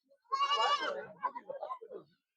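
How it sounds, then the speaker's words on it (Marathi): Goats bleat at a goat and sheep market, one loud wavering bleat up close followed by softer broken calls from nearby animals, with no talk. "शेळ्यांची करडई झालेली आणि पाठीमागे शेळ्या आहे"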